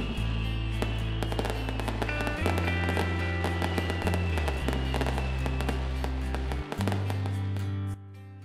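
Fireworks crackle and pop in dense, continuous bursts over a deep, steady rumble, loud and close throughout, over the towers of the medieval village of Peyrusse-le-Roc, France.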